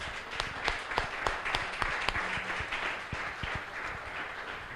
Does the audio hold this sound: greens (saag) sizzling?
no